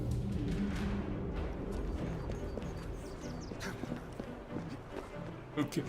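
Horses gallop with a steady clip-clop of hooves in Assassin's Creed Syndicate, set in London. Hoofbeats and carriage noise run throughout under a voice talking.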